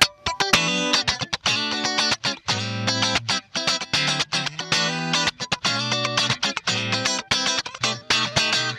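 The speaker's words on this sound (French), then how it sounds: "position claquante pour faire du funk." Fender Stratocaster electric guitar in the in-between pickup position, played with a bright, snappy funk tone: rapid choppy strummed chords in a steady rhythm, close and loud with no voices.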